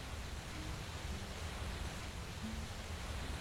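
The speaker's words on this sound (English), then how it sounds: "Oh, that waterfall." A video game waterfall rushes as a constant, dense wash of broadband noise, loud and steady throughout with no pauses.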